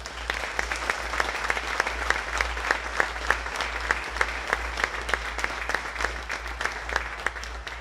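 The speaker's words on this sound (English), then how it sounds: "Round of applause, please." A crowd applauds state champion athletes at a high school sports honors ceremony, with steady, dense clapping sustained throughout over a low hum.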